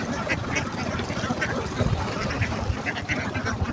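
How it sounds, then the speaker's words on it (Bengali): A flock of ducks quacks repeatedly as they walk back from the field into their shed, overlapping calls at mid distance over a steady outdoor rumble. "ও হাঁসগুলো দেখেন একে একে মাঠ থেকে সব ওরা নিজেরাই ঘরে উঠে যাচ্ছে।"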